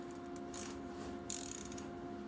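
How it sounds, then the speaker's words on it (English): A ratcheting wrench tightens bolts on the pinion-side differential flange of a Jeep WJ driveshaft in a cramped spot, giving two short bursts of faint clicking over a steady garage hum. "these ratcheting wrenches are great for here because there's not a lot of room to get a socket in"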